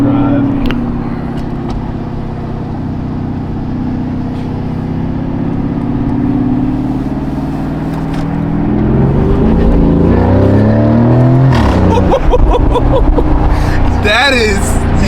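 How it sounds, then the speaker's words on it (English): A 2025 Lamborghini Urus SE being driven, its deep exhaust note droning steadily and then swelling as the engine revs up under acceleration, with people talking over the engine sound. "It's like it's deeper exhaust note on it."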